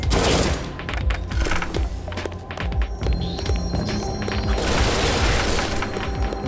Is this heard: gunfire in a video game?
yes